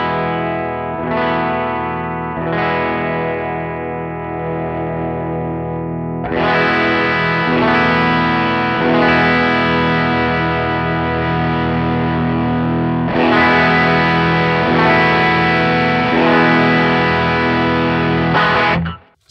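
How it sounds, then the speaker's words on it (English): Electric guitar through a Greer Lightspeed overdrive pedal plays loud distorted chords and sustained notes, first a few struck chords, then fuller ringing passages as the gain knob is swept, ending abruptly. "let's hear if there's any EQ differences when we turn up the gain with the Greer Lightspeed"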